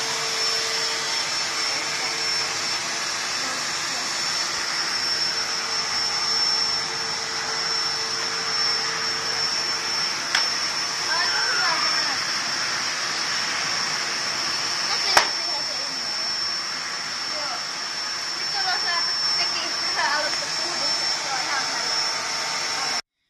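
A Nilfisk Multi 30 vacuum cleaner runs steadily at high suction power, a continuous loud whine with a sharp high tone held throughout and a couple of brief clicks, with faint talk in the background.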